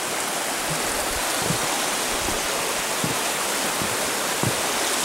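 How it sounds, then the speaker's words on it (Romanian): A muddy, swollen river rushes past in the mountains, a loud, constant broadband roar of flowing water close by, unbroken and without voices. "Râul e tulbure."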